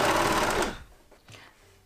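Sewing machine stitching PUL fabric for a reusable bowl cover, a brief fast rattling run that stops after under a second, followed by faint handling sounds.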